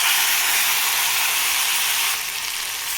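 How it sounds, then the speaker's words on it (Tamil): Ground garlic chutney poured into hot oil with popped mustard seeds sets off a loud, steady sizzle and hiss that carries for about two seconds, then eases slightly as the frying settles. "இப்போ அரைச்சி வச்ச சட்னி அதில் ஊற்றிக்கலாம்"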